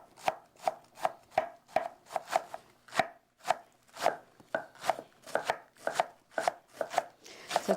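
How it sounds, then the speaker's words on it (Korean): A knife shreds lettuce on a cutting board in a kitchen, about twenty sharp, evenly spaced chops in a steady rhythm, close and crisp with no talking. "양상추 채쳐주세요."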